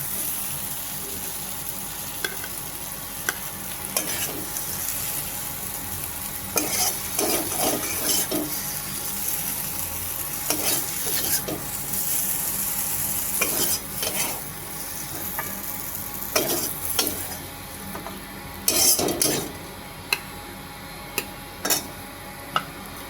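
Brinjal slices sizzling in hot oil in a kadai, a steady frying hiss with scattered scraping and clinking from a spatula stirring through the pan.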